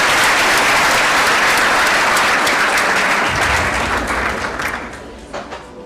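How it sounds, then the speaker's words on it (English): An audience at a graduation ceremony applauds in a dense, sustained burst of clapping that holds strong for about four seconds, then thins and fades as individual claps trail off. "everybody should give themselves a round of applause for all the work you have done over the past 6 years"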